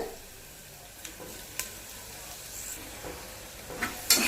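Ground chili and garlic paste frying in a pan, a steady soft sizzle with scattered stirring clicks and scrapes, close and moderately quiet, with no talking.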